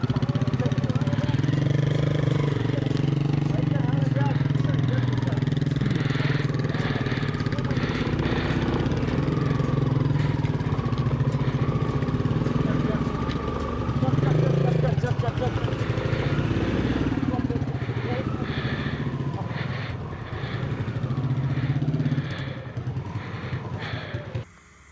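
A motorcycle engine runs steadily in the freezing Langar valley, idling and revving near the listener for a long stretch while people talk over it.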